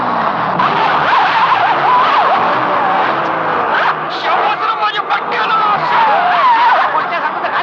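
Car driven straight at a group of people in a Marathi film scene, its engine roaring loud and close for several seconds as tyres squeal and skid over a dense, continuous rumble.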